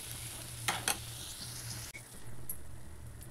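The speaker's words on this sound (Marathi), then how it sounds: "पुन्हा ड्रायफ्रूट्स टाकून देऊया आणि हे चांगलं एकजीव करून घेऊया" Pineapple and dry fruits stirred into rava sheera in a pan, a low steady sizzle with two quick scraping strokes of the spoon early on, then a quieter mix. No talking.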